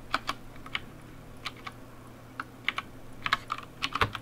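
Someone types on a computer keyboard while coding, with quick irregular clusters of crisp key clicks, close and fairly quiet, with no talk.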